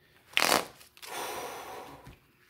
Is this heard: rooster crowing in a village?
no